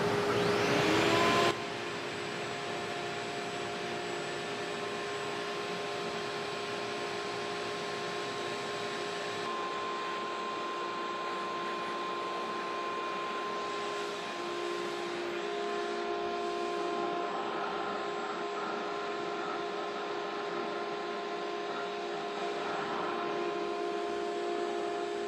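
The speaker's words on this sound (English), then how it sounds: "So I'll turn on the main dust collector first. and then I'll turn on the mini dust collector second" A main dust collector and a smaller mini dust collector in a woodworking shop run together, a loud steady whirring drone with a constant motor hum and airy rush, unchanging throughout with no talk.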